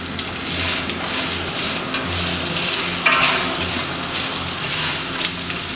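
Sliced onions frying with spices in a pan give a steady, close, broadband sizzle with a crackle of stirring near the middle, with no voices over it.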